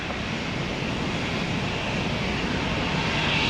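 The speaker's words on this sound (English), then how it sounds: "good takeoff, Frontier Flight 29" A Frontier airliner jet taking off, a loud, steady broadband engine roar that swells slightly toward the end, with no voices.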